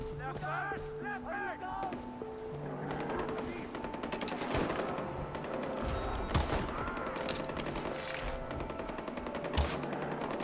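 Rapid gunfire from the video game Far Cry 4 plays at moderate volume, mixed with in-game music tones. Several sharper shots stand out near the end.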